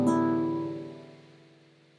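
Acoustic guitar with freshly tuned strings strummed once as a single open chord, ringing clearly and slowly fading out alone.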